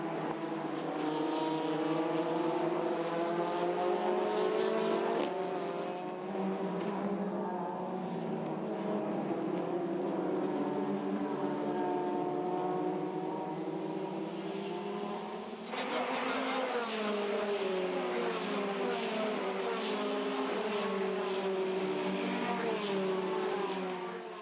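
Formula Renault Eurocup race cars lapping the Hungaroring circuit, a steady high-revving engine drone with rising and falling pitch sweeps as cars pass, continuous throughout with a brief gap before another car arrives.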